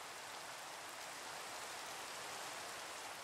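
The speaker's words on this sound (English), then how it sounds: "I hate the rain." Steady, even rain hisses throughout in a Minecraft world, a constant soft wash with no breaks and no voices.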